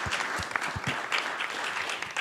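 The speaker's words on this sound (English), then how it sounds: "I think we should give them a round of applause anyway" Audience at an industry awards ceremony clapping for award winners, a modest scattering of claps heard from a distance at a fairly low level.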